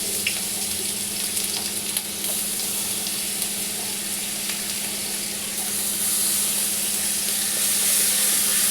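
Garlic fries in a little oil, a steady soft sizzle that swells slightly toward the end, with a low constant hum beneath and no speech.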